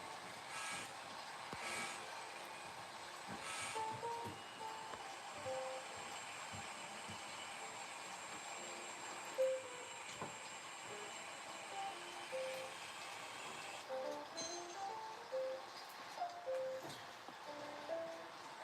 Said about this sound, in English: I might just turn off the sound on this locomotive at this point because it's causing all sorts of issues